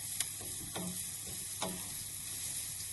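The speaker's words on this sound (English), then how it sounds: "just add them straight in there and stir those into the oil in the pan" Whole spices stirred into hot oil in a pan for chicken curry, a steady close sizzle broken by a few sharp scraping clicks from the spoon.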